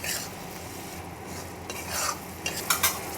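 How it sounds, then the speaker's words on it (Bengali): Chopped coriander being stirred into a small-fish curry in a pan, with a spoon scraping and clinking against the metal over a soft sizzle, the strokes growing louder toward the end. "ধনেপাতাটা ভালো করে তরকারির সঙ্গে একটু নেড়ে চেড়ে মিশিয়ে নিচ্ছি।"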